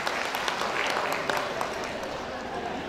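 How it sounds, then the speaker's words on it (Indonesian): Audience applause at the DMDI Award 2023 ceremony, a dense, steady wash of clapping from a large crowd filling the room for a few seconds, with voices mixed into it. "Beri tepuk tangan 350 kali."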